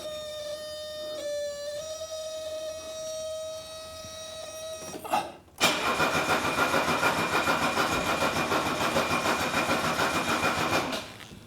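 A Mercedes 300D diesel engine cranks with a whirring starter whine, then catches abruptly and settles into a steady, loud running rumble that continues to the end.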